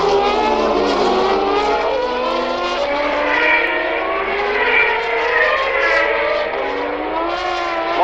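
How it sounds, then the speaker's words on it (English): 1990 Formula 1 cars at Paul Ricard run nose to tail during the French Grand Prix, several high-pitched engines screaming and shifting pitch as they pass in a continuous loud blend, with a commentator faintly underneath. "A lot of cars still running very close together, nose to tail"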